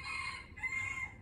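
A rooster crows once, drawn out and fairly close, its call dipping briefly mid-way before rising again, heard alone without talk.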